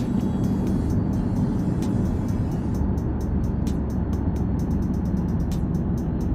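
A loud Jeep SRT with a 700-horsepower engine while driving, a continuous deep engine drone and road rumble that stays steady, with sharp ticking clicks recurring over the top.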